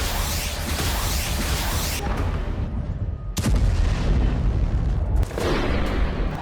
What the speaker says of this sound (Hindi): यूक्रेनी हमलों के बाद रूस के बॉम्बर्स ने उड़ान भरी और यूक्रेन के कई शहरों पर कारपेट बमबारी की।